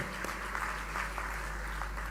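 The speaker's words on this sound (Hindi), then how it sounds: "एक बार आप सब ताली बजा के सबका अभिनंदन करें, स्वागत करें।" Audience at a government staff gathering with the Madhya Pradesh chief minister claps in a faint, distant patter, scattered hand claps standing out over a low steady hum.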